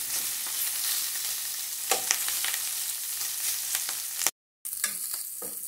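Pork leg sizzling and frying as it browns in a pan, a steady crackling hiss with occasional louder pops and stirring, close up and with no voices.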